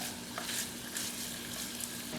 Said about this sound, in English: your friend over here is cooking up the bacon